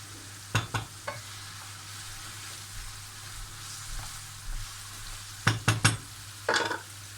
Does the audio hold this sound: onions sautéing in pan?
yes